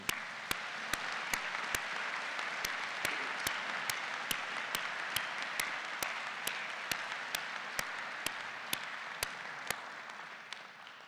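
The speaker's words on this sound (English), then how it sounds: "Let's give a round of applause to all of those who have been part of this journey." Audience applause at a doctoral hooding ceremony, a broad, continuous wash of clapping from a large crowd that holds steady across the whole stretch, with faint regular clicks running through it.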